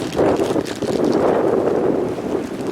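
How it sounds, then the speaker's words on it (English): Wind blows outdoors across an open yard, a loud steady rumbling buffet against the microphone throughout. "the wind is blowing"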